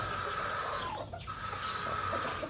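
A trio of pure White Kelso gamefowl, peacomb pullets and cock, clucks softly in a farm setting, with a low continuous murmur of calls and no talk.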